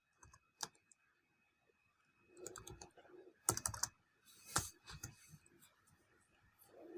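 Typing on a computer keyboard while entering city names into a Facebook ad targeting tool: scattered clicks and short bursts of keystrokes, close and moderately quiet, with pauses between them and no speech.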